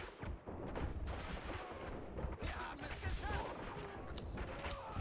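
Distant machine gun fire and explosions in the Army Men toy soldier war game, a dense steady rumble of rapid shots under a faint background of battle noise.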